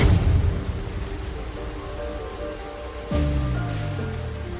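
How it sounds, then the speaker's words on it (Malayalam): Steady rain falling on a surface, broadband hiss throughout, with a low rumbling swell partway through like distant thunder. "മതി, മഴ പെയ്യുന്നു."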